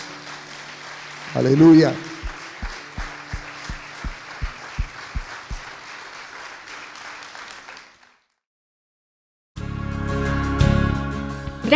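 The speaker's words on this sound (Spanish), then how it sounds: "Le damos un aplauso al Señor" A church congregation's steady, evenly spaced claps at a worship service sound under a voice, followed by a brief silence and then loud music.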